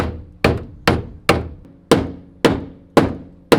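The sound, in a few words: hammering metal inner fender tabs on a 1997 Miata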